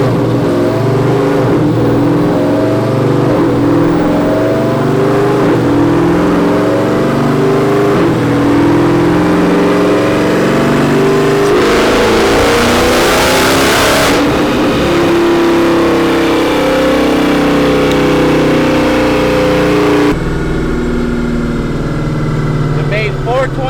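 Mopar Hellcat V8 on a dyno during a short low-rpm pull, a loud, rising engine drone with a sharp sweeping rev through the middle, then settling back toward a steady rumble, heard close and continuous.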